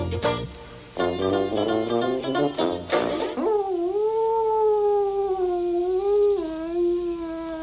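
A hound dog howls mournfully, a long wavering cry that rises and slides in pitch, following a burst of brassy, braying animal-band music, loud and close.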